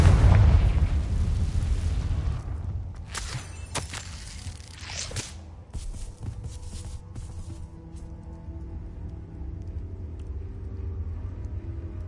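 A Confringo spell explodes in the video game Hogwarts Legacy, a loud boom that fades into a long, low rumble with scattered crackling debris and no talking.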